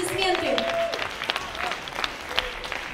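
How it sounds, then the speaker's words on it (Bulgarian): Sustained audience applause at a gala concert for laureates and participants of an art studio, steady dense clapping filling the hall while a voice speaks over it at the start. "Ваши бурные аплодисменты."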